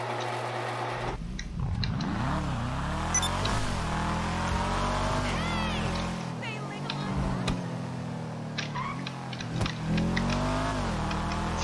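Car engine in GTA Online during a test drive of a modified tuner car, revving and shifting with rising and falling pitch sweeps, fairly close, while someone talks over it in Turkish.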